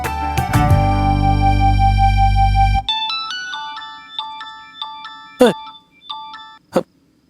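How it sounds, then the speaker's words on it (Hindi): A phone ringtone plays a bright, loud electronic melody in a home setting, first as a dense sustained tune, then as sparser chiming notes broken by a few sharp clicks. "आपके लिए फोन है अम्मा का।"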